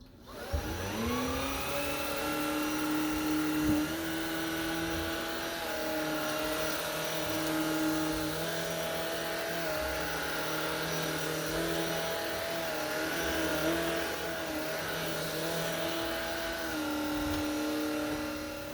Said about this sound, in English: I have one of the most amazing vacuums in the world, because I gotta get all this dirt out of the carpet